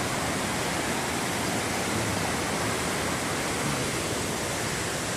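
Waterfall at Boiçucanga in São Sebastião, São Paulo, a dense, unbroken roar of falling water, loud and close, with no voices.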